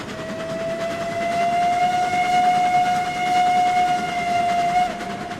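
A steam locomotive whistle sounds in a canyon in the RailRoads Online video game: one long, steady, loud blast held for several seconds over a low rumbling background.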